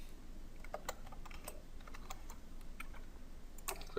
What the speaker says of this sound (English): Hopefully I can type this correctly this time.